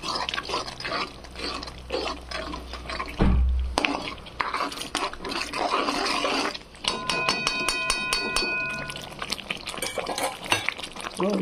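A spoon scrapes and stirs through frying vegetables as pav bhaji masala, turmeric and salt go into the pan. Metal clinks on the pan under a steady sizzle, with continuous scraping and a few sharp taps and rattles.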